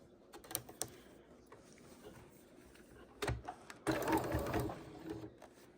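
A sewing machine stitching quilt blocks made from panels and scraps runs in short whirring bursts, with quiet handling noises in between and a longer, louder run near the end.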